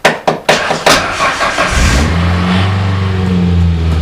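A 1994 White Ranger truck sitting in an abandoned barn cold-starts: a few sharp starter cranks, then the engine catches with a rev and settles into a steady, loud idle up close.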